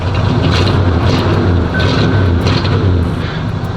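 An Oldsmobile Cutlass engine idles loudly and steadily up close, with a rough low rumble and a brief rise in revs partway through, no talking over it.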